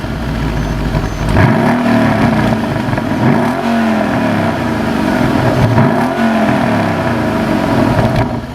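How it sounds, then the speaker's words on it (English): A Mercedes E63 AMG wagon's exhaust barks loud and close as the V8 is revved repeatedly, several rising and falling engine sweeps with a deep rumble between blips. "there's also another benefit of this car, the exhaust"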